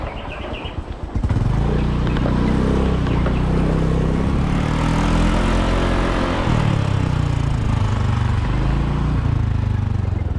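A motorcycle engine starts after a second of quiet and then runs loud and close, holding a steady, throaty idle with slight revving swells throughout.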